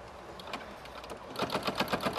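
A sewing machine stitches along the seam of a canvas bag, its motor buzz building into a steady run of rapid, evenly spaced needle strokes, close and fairly quiet.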